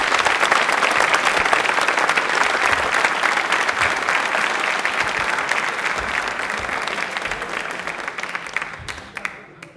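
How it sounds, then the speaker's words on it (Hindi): Loud, sustained audience applause in a television studio during a Hindi quiz show, a dense wash of many clapping hands for nearly ten seconds that gradually thins and fades at the end. "तालियां एक बार हो जाए जोरदार"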